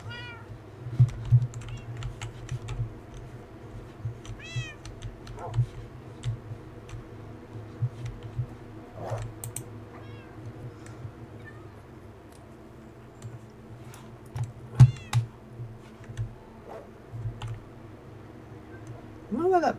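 Cats meowing inside a Minecraft game: a few short, rising meows scattered across a quiet in-game background, with faint keyboard tapping and clicks.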